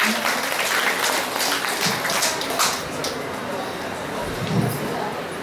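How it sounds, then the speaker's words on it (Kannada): An audience at a school anniversary and Kannada Rajyotsava celebration claps in dense, sustained applause, with voices mixed in beneath the clapping. "ಚಪ್ಪಾಳೆಯ ಮೂಲಕ ಹಾರೈಕೆಯನ್ನ ಮಾಡೋಣ"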